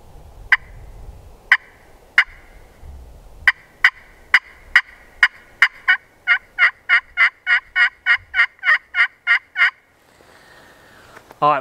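A slate pot call imitates a wild turkey with sharp, evenly spaced yelps that speed into a quick, rhythmic run of clucks and purrs. The sounds are close and clear over a quiet background.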